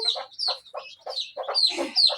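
Farm chickens at a small backyard flock let out a quick run of close, choppy clucks and squawks, several short bursts in rapid succession.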